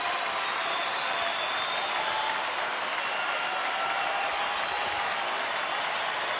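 A large baseball stadium crowd stands and cheers at a Detroit at Texas game, a dense, continuous roar of applause and shouting that holds steady throughout.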